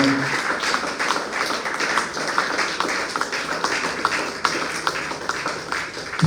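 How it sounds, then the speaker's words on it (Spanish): A church congregation applauds steadily, a dense patter of many hands at moderate level that continues for the whole stretch with no talk over it. "Un fuerte aplauso a nuestro Señor."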